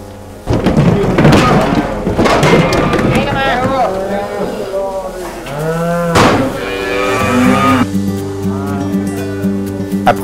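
Cattle rescued from the Saint-Vit herd moo repeatedly and loudly at close range while being unloaded, long drawn-out calls overlapping one another against a steady background rumble.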